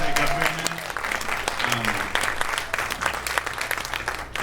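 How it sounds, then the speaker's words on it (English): Audience applause at a debate among 2022 Vermont US House candidates, a dense burst of clapping from a hall crowd lasting several seconds, with a few voices mixed in underneath. "Can we just get a quick round of applause just to wake back up for a minute?"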